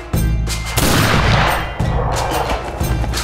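Gunfire and booms in a war scene from the Marakkar: Lion of the Arabian Sea movie trailer, a dense loud volley of repeated blasts with dramatic music underneath, no talking.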